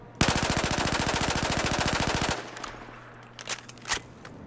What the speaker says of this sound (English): 880 rounds a minute. Is nothing to laugh at. Pretty quick firing gun.